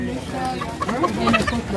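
A rooster and other fowl cluck and call at a busy poultry market, close and fairly loud, heard under someone talking.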